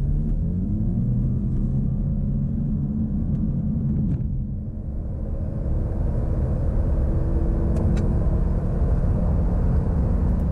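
A 2014 Lexus IS300h hybrid, a 1.7-tonne saloon, accelerating hard through a 30-70 sprint, its engine note a loud, steady rumble and drone that holds level, dips briefly, then swells again without any talk.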